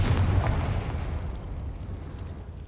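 A fiery Confringo spell bursts in Hogwarts Legacy as one heavy explosion with a deep boom at the onset, followed by a long rumbling decay that fades over a few seconds.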